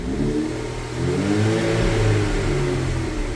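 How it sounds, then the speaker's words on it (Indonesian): A motorcycle engine revved hard to blow out carbon deposits, a loud, continuous rising-and-falling roar close by that holds steady through the whole stretch with no voices. "Dilakukan pengegasan untuk mengeluarkan kerak-keraknya"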